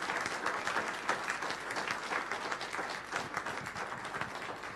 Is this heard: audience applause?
yes